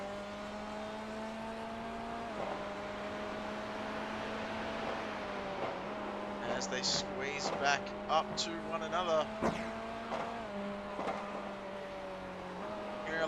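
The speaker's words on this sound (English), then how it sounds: "Hearing a lot of pops and bangs. Not sure if you can hear that as well from the back of the Corvette." Racing-game engine drone of a Corvette at Fuji Speedway holds steady while crackling exhaust pops and bangs burst in irregular clusters on lift-off, with a commentator talking over the sound.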